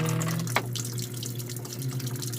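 Water gushing hard from a tap during laundry: a steady, loud, broadband rush close by that holds throughout, with a faint splash or knock near the start and no talk.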